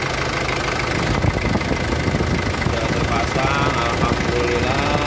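An Isuzu 4JG engine idles with a steady, even rumble after a cooling-water hose is refitted, running close and continuous, with a voice heard over part of it.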